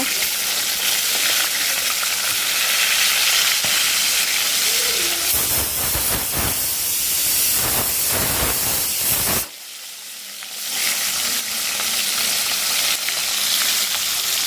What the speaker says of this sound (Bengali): মাছটা প্রায় ভাজা হয়ে গেছে এক পাশে তবে উল্টে দেব